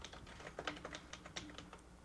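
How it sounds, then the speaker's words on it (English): Quick, soft taps on a computer keyboard typing in a search, an irregular burst of keystrokes heard close and quiet. "let's, for example, type in just like Jira ticketing system"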